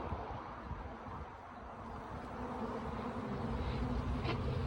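A swarm of honeybees hums around a new hive box propped on flower pots, a steady, close droning buzz that holds throughout without a break.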